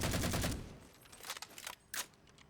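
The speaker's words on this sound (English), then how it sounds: "you can shoot at the shield now and watch it reappear after a few seconds based on your spawn time setting" Gunfire is aimed at a shield in Halo 4 Forge: a rapid, close burst of automatic shots, followed by a few scattered shots and impacts.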